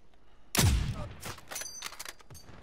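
Video game gunfire cracks out in a loud burst of several shots at close range. A few sharper, quieter shots follow in an irregular rhythm.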